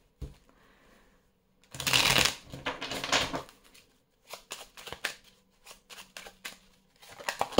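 Tarot cards being shuffled in quick, crisp riffling bursts, loud and close, separated by short pauses and a few lighter taps and flicks, with no speech.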